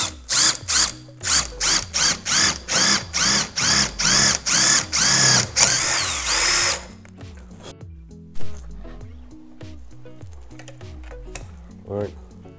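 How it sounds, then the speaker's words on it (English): A power drill boring a 1/4 inch hole while fitting factory fog lamps on a Jeep WJ Laredo, in rapid bursts of loud whirring for several seconds, then quieter mechanical clicking and rattling, close by. "I'm just gonna put a 1/4 inch hole in here."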